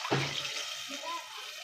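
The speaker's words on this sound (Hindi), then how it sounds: "हम तकरीबन 1 गिलास पानी ऐड कर देंगे" About a glass of water is poured into sizzling fried masala in a pan, giving a brief splash and hiss at the start that settles into a steady bubbling simmer.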